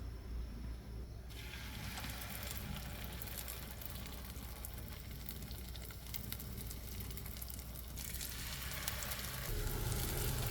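Sardines stir-frying in oil in a pan, a loud, dense sizzle with crackling throughout and occasional scraping of a ladle, nearby and without talk.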